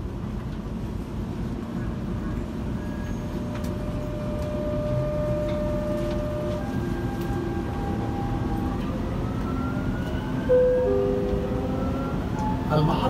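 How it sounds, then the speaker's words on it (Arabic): A Dubai Metro train closes its doors and pulls away, its rising electric motor whine sweeping upward in tone over a steady rumble, while people talk and announcements play. "Doors closing."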